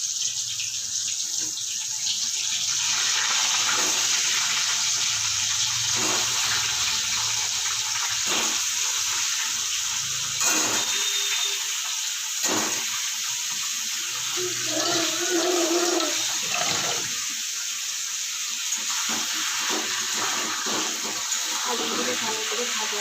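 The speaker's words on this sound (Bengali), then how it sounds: "আলুগুলো ভালো করে ভাজা ভেজে দিই।" Potatoes fry in a pan for mutton biryani, giving a steady close sizzle that runs unbroken for over twenty seconds, with a few soft clinks and knocks scattered through it.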